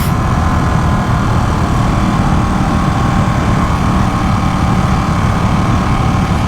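A Ducati Panigale 959 motorcycle exhaust growls steadily and loudly throughout, a dense, even engine rumble with no pauses, as if riding at constant throttle.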